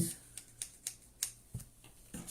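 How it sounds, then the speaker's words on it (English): Straight scissors cut felt for a heart decoration in a steady run of about eight crisp snips, close and quiet, with a voice talking lightly around the cutting. "I'm going to use the straight scissors"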